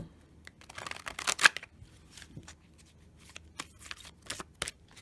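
Tarot cards are shuffled in quick riffling bursts with soft slaps and pauses between, close and fairly quiet, with no talking.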